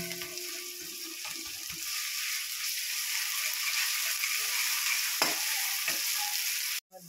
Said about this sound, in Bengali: রসুন বাটা দিয়ে দিচ্ছি। এগুলো নাড়াচাড়া করে নেব।